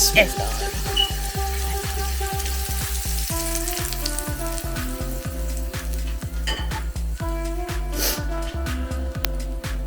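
Loud, steady sizzling of a spice tempering in hot oil for chana dal fry, with crackling pops throughout and no talking.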